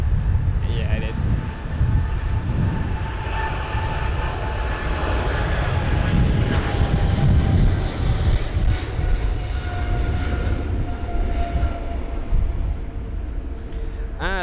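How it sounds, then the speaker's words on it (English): British Airways Boeing 777-300ER jet at London Heathrow during stormy weather, a loud sustained engine roar with a steady whine, heard outdoors against wind noise throughout. "So this is BA287, the Boeing 777-300ER of British Airways off to San Francisco."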